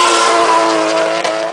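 Drift car at NOPI Nationals 2005, Atlanta Motor Speedway, sliding close along the wall with a loud sustained high-revving engine and tire noise, brief and continuous without speech.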